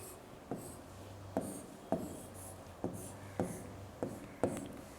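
A pen or pencil scratches and taps on paper while a math answer is written down, making a series of short, close strokes at a steady pace. The strokes are quiet, with faint background hum and no speech.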